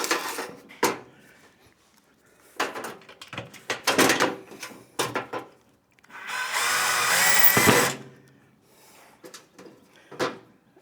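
A Bosch power drill runs in short bursts amid clattering workshop handling of wood, then one longer steady whir near the middle before more knocks and brief spins.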